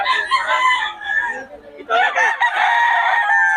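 A rooster crows loudly nearby, two long strained calls separated by a short pause, with faint clucking in the background.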